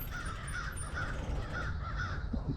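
Crows caw repeatedly overhead in a rapid series of harsh calls, heard over a steady low rumble of wind and road noise during a trike ride.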